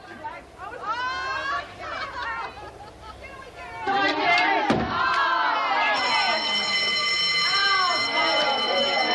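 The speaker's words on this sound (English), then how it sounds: "it must have been the girls cheering about going back to work this afternoon." A crowd of women prisoners cheers and shouts loudly, rising into a dense burst of excited voices and chatter partway through.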